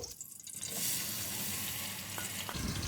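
Finely chopped onions frying in a cup of ghee for a Punjabi makhan dal mash, a dense, loud continuous sizzle with a couple of faint utensil taps near the end.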